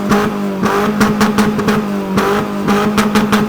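Exhaust note from the rear of a modified Chevrolet Optra: loud, close, choppy bursts of revving that rise and drop several times in quick succession, with no talk.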